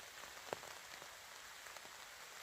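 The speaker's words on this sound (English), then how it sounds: "The rain's getting heavier. Oh, love it. Rain on top." Rain pattering steadily on a hammock camp in woodland, soft close drops with a faint hiss of wider rainfall, quiet and without voices.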